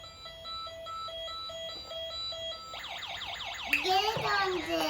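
A battery-powered toy ambulance with lights sounds its electronic siren, first as steady repeated beeps and then as a fast warbling wail, close and moderately loud, with someone talking in the background.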